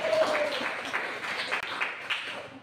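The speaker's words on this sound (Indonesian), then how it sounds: "mari kita tepuk tangan untuk kelompok 1." Classroom applause for a student group, a steady wash of many hands clapping at moderate level with a brief voice at the start, fading slightly toward the end.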